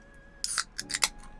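A cold drink can cracked open indoors: a sharp metallic snap followed by a brief fizzing hiss and a second burst, close and clear against a quiet room with a faint steady tone behind.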